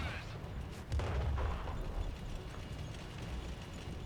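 Artillery shells hitting a tier 9 light tank in World of Tanks, a heavy boom near the one-second mark over dense battle rumble that keeps going to the end, with some voice chatter mixed in.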